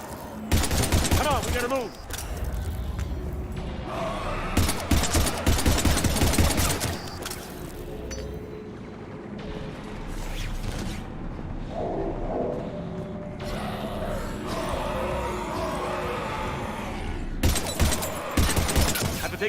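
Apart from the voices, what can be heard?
gunfire at husks in the video game Mass Effect 3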